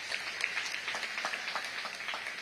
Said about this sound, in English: Please, let's clap for him for that.